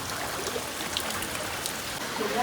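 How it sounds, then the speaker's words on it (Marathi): Floodwater flows through a village in a steady, dense rushing wash like a stream, constant and fairly loud throughout with no talking. "आणि पाण्याचं किती चाललं बघ."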